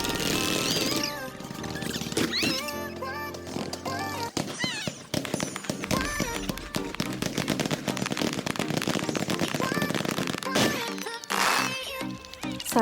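Fireworks burst at a night festival in Japan, a long dense run of loud cracks and booms that crackle continuously over about thirteen seconds, with sharp peaks and rolling echoes and no talking.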